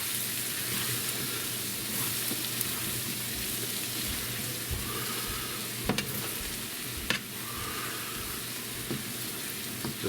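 Potatoes frying as home fries in a pan alongside a ham steak, a steady close sizzle with occasional stirring scrapes and clinks, no talking.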